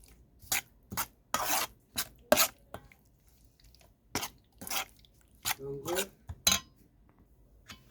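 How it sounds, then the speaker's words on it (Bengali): Bare hands work salt and turmeric into loitta (Bombay duck) fish, making a dozen or so short, quiet, wet squishing and clinking bursts at an uneven pace with silent gaps between them. "তো এখানে আমি মশলাটা খুব ভালো করে মেখে নিয়েছি লোটে মাছে"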